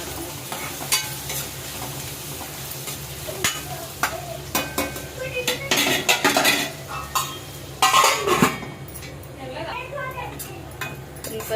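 Sliced onions sizzle and fry in a pan for a bitter gourd and egg curry, with steady crackling broken by frequent spatula stirs and scrapes against the pan, and a few metallic clinks of utensils.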